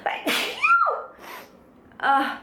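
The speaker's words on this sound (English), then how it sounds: "I have to sneeze." A single close, loud human sneeze, a sharp breathy burst after a quick intake of air, followed by a softer exhale and a second short breathy sound, with no talking.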